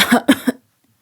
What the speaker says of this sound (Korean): 경춘이는 말을 미처 마치지 못하고 몹시 기침을 하였다